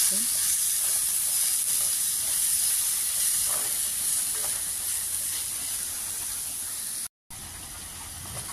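Pointed gourd fries in a pan while being stirred, giving a continuous loud hiss and sizzle with faint scraping. One brief dropout interrupts it near the end.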